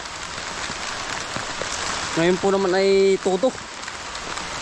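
Rain falls steadily on a field during planting, a continuous broadband hiss of drops throughout, with a person speaking partway through.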